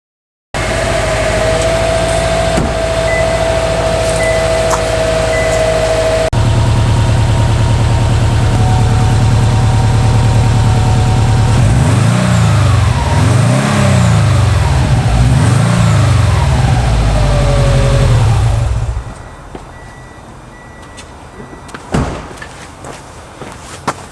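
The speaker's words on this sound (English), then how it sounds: "I want to hear the exhaust note rather than the sound of the engine." A Subaru Forester SH car engine idles loudly, then the exhaust roars through several rising and falling revs before cutting off, leaving quiet clicks.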